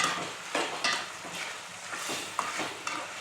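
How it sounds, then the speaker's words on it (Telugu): Goat tripe fries in oil with onion and mint, stirred in the pan, giving a continuous close sizzle with repeated scraping strokes of the spoon and a few light metallic taps. "ఇప్పుడు బోటి మంచిగా ఆయిల్లో వేగాలి, ఉడకాలి."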